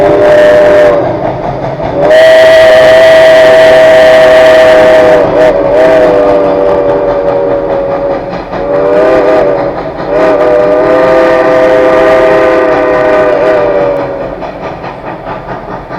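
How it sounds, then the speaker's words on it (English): A coal-powered steam train passing in the Pocono Mountains area, loud and near, with long sustained whistle blasts sounding over the rumble of the cars and briefly pausing between calls. "we saw a real steamer, coal-powered steamer."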